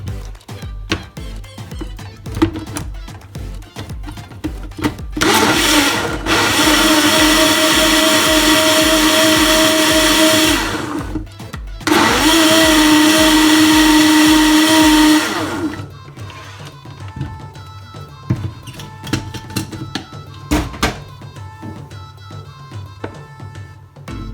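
A loud blender whirs steadily for several seconds mixing a smoothie with coconut oil, stops briefly, then runs again before clinking and rattling as it winds down.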